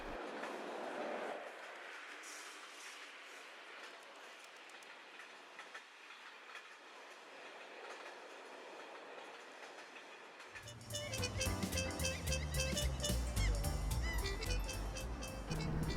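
A faint distant rumble grows as a Stockholm metro train arrives near Gamla Stan, then a loud rhythmic clatter of wheels on rail joints fills the last few seconds.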